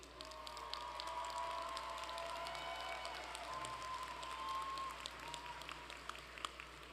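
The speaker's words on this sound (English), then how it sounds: "Give them a round of applause, please." Audience applause at a university graduation commencement ceremony, a steady wash of many hands clapping from a distant crowd, fairly faint and continuous without talk.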